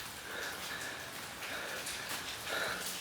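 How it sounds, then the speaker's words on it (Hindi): Heavy rain pours down steadily, a dense, continuous hiss of drops hitting surfaces with no talking. "बहुत ज़्यादा बारिश है, अल्लाह खैर करे।"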